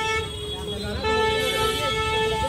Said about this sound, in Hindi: इत्थे तो हॉर्न मार मार के ना दिमाग खराब कर देंगे